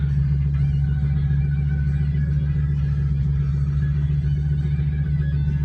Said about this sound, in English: But the old V10 sounds pretty dang good.